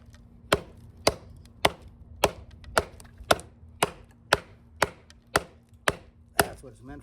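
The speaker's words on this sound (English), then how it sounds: "this thing is just a monster chopper. That's what it's meant for, is just chopping." A heavy Mtech Xtreme Raptor knife chops hard into wood, about a dozen sharp, evenly spaced whacks close up with no talk in between.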